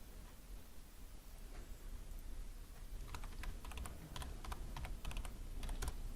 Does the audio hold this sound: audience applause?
no